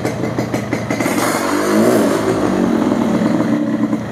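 A 2002 Yamaha RX King motorcycle's two-stroke engine revs up and down close by, giving a rough, buzzing, rising and falling roar with rattling clatter, loud and continuous.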